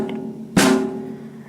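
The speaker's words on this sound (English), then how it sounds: "Now the next important drum we've got here is the snare drum." A single sharp crack from a snare drum whacked with a drumstick, close and bright with a brief rattle of the snare wires, over a low background hum.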